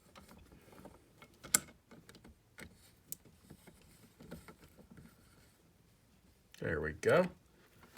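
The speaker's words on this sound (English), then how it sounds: "Take a little tool, go reverse it for a little just to make sure that these threads bite in, and then we'll tighten that up." A small tool tightening the threaded part of a Franz Viegener single-lever faucet, heard as scattered light metallic clicks and ratcheting scrapes, then a pair of louder grinding bursts near the end, with a brief spoken remark.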